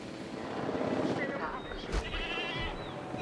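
Goat bleating in the Jurassic World Evolution 2 park-building game, a few short wavering bleats over a busy ambient game soundscape with a sharp transient near the middle, while someone talks over it.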